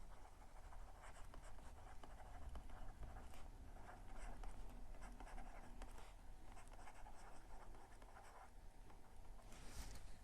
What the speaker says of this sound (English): let me write on the next page